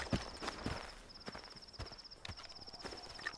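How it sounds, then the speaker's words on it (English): Thumpy in-game footsteps in S.T.A.L.K.E.R. 2: Heart of Chornobyl, a steady series of short, soft impacts at a walking pace, fairly close, over a faint ambient background with a thin high tone. "I heard thumpy footsteps."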